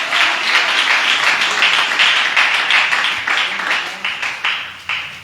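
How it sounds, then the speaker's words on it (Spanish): A church congregation breaks into loud, dense applause during a service, sustained clapping from many people that fades into a few separate claps near the end. "Un aplauso al Señor."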